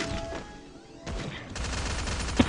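Gunfire in the mobile shooter Free Fire, rapid bursts of weapon shots with crashes and impacts, fairly loud and continuous through the clip.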